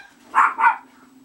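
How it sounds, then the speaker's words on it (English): A dog gives two quick barks in a row, moderately loud and a little distant, with a low hum underneath and no talking. "there go the doggies."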